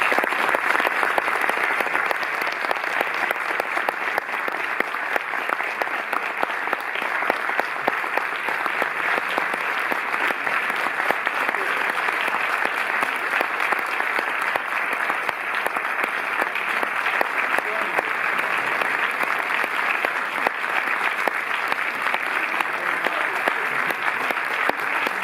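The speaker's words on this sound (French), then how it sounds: "Merci sous vos applaudissements d'accueillir Wally Pfister." A theatre audience at the Cinémathèque in Paris applauds steadily to welcome cinematographer Wally Pfister, a dense, sustained wash of many hands clapping for the full stretch with no break.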